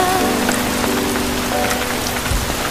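Steady rainfall patters on surfaces nearby, a dense continuous hiss of drops with a few louder splashes, with no voices.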